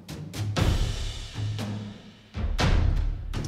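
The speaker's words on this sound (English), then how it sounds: "So this is the mockup, which is the main percussion, basically, percussion idea" Main percussion mockup in a music composition template: booming low drums and sharp accent hits in a heavy rhythmic pattern, loud and close with no talk.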